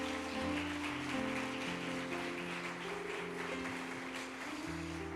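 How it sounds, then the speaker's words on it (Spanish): Congregation applauding in a church, a steady broad wash of clapping mixed with sustained musical tones underneath, continuous and fairly even throughout. "Vamos, dale un aplauso al Señor."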